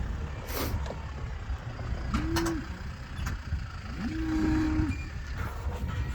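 Cows on a farm moo at feeding time, two drawn-out low calls at a distance over steady outdoor background noise, the second longer than the first.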